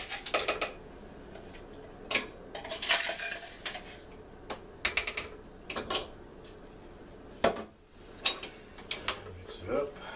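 Metal utensil clanks and scrapes against a crockpot as corn is mixed into the meal, a run of sharp irregular knocks and stirring scrapes close by, with short pauses between.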